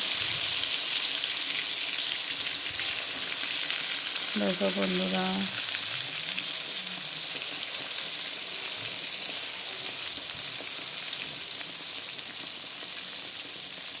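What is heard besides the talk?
eggplant frying in oil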